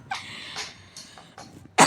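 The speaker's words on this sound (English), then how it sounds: "Sorry, I have a high pitch cough." A person's high-pitched cough: several short, sharp coughing bursts in quick succession, close to the microphone, ending in a louder, harsher burst.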